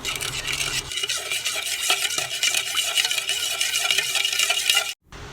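Chicken tocino marinade stirred in a bowl to dissolve the sugar, a continuous close scraping and swishing with light clinks of the utensil, steady for several seconds before stopping abruptly, no voices.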